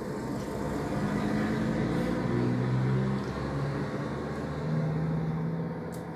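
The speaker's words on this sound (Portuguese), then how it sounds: "Acho que passou, não sei se vocês conseguiram ouvir, mas caminhão passando aí." A truck passes outside, a steady low rumble of road traffic that swells and eases across several seconds, heard alone and fairly distant.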